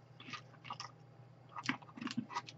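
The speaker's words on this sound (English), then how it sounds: "this video is like just me chewing on a cough drop." Close, wet chewing and crunching on a hard Ricola Revitalizing herb drop, irregular bites and mouth sounds with a low background hum, no talking.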